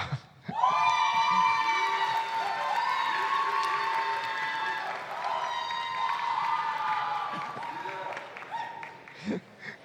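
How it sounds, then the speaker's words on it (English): A crowd at a university spring convocation cheers loudly as a graduate's name is read, with sustained whoops and high shouting voices over clapping for several seconds before fading. "A cheer as long as her name."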